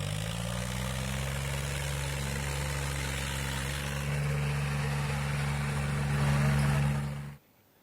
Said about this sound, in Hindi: हाई स्पीड के साथ 2 पहियों पर चलाए गए ट्रैक्टर